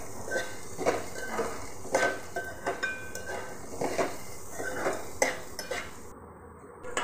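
A spoon stirring bitter gourd curry in a pan, giving repeated close metallic scrapes and clinks in a steady rhythm at moderate loudness, with no talking.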